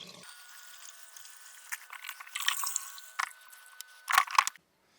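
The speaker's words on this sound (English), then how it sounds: "So once you start pouring, you can press the vent button" Waste is poured out of a Thetford C223 cassette toilet tank while its vent button is held, giving faint, scattered liquid splashes and squishy gurgles that build into a short louder burst before stopping.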